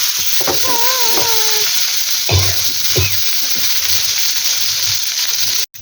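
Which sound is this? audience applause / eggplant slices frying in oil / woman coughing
eggplant slices frying in oil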